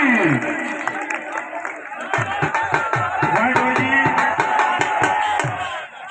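Crowd at an outdoor plastic-ball volleyball final claps and cheers loudly, with sharp hand claps and shouts in a dense, continuous roar, voices calling over the noise throughout.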